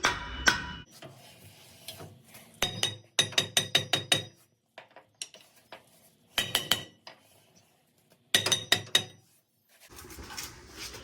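Sharp metallic hammer taps ring out against a stuck rear brake drum on a Ford F truck, coming in quick bursts of several strikes separated by brief pauses, close and loud.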